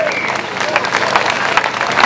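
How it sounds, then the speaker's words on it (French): A crowd applauds at a political rally for Frexit in Paris, dense clapping with cheering voices mixed in, loud and close, swelling slightly toward the end. "il faut applaudir le peuple de France"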